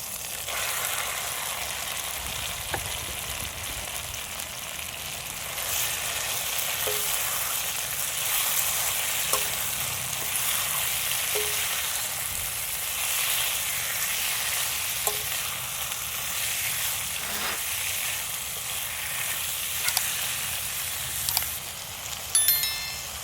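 Half a kilo of washed chicken frying in a pan for masala chicken noodles gives a steady, close sizzle and crackle, with occasional stirring scrapes and no talk.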